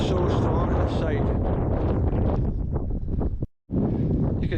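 Strong wind on an exposed hilltop at an old hill fort in Scotland, roaring and buffeting hard against the microphone, with a brief drop-out near the end before the gusting returns.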